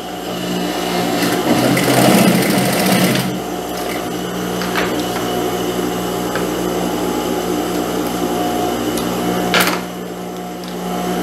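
A sewing machine runs steadily while sewing several seams into a skirt waistband, a continuous close mechanical whir with a louder stretch near the start.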